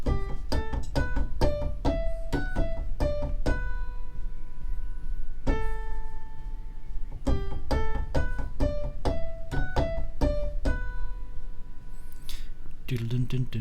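Fast keyboard melody in a scales and melody lesson, a quick run of bright plucked-sounding notes played rapidly in bursts with a few longer held tones between, close and clear, no talking over it.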